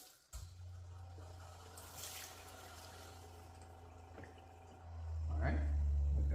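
A tap on a reverse-osmosis filter system runs water into a new bottle, a quiet steady trickle that swells louder near the end, with faint handling noises.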